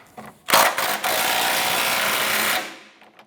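A large bolt on the front cradle of a 2004-2008 Acura TL is loosened with a harsh, rapid mechanical rattle. The burst lasts about two seconds, is close and loud, and fades out as it stops.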